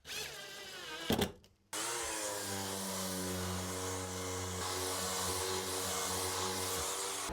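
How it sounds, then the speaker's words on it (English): A power sander running on a wooden dog scratching box made from mixed woods: a brief start-up burst, a short cut-out, then a steady droning hum with a constant whirring tone, close and continuous. "and then I can give the whole thing a sand down."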